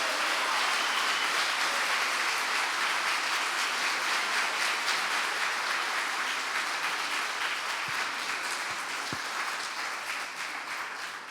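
A church congregation applauds during a sermon, a loud, steady wash of clapping that holds for about eleven seconds and eases off slightly near the end.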